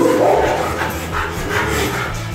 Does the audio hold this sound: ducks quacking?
no